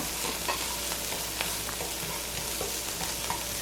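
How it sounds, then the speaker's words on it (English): Minced garlic sautéing in a pan for kimchi fried rice, a constant crackling sizzle with scattered pops and light stirring clicks, close and steady, no voices. "add the minced garlic in. We're going to let that saute for about a minute"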